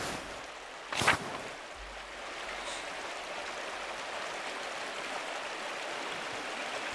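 A waterfall stream in the medieval video game Pentiment gives a steady, moderate rushing wash of water that carries on throughout, with a single brief louder swish near the start.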